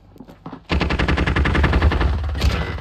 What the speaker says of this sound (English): There's a sentry gun that pinned me into a corner